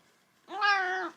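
A grumpy cat lets out a single clear, drawn-out meow lasting about half a second, close and fairly quiet against a silent background.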